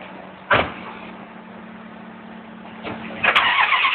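A Ferrari engine cranks and catches with a sharp burst, settles into a steady low idle, then a second starter crank brings a louder, rougher rise in revs, close and outdoors with no talk.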